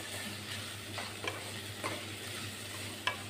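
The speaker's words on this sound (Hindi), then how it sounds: "तो टमाटर को भी थोड़ा सॉफ्ट कर लेते हैं मसाले में भून के" Tomatoes fried with ground spices such as red chili and coriander make a soft, steady sizzle in a pan, with a few quiet scrapes of a spoon stirring and a low hum behind it.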